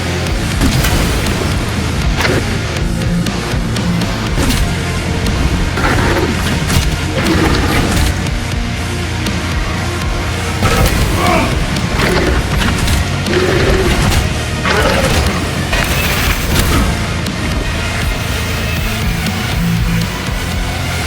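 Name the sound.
melee parries and blocks in the video game Space Marine 2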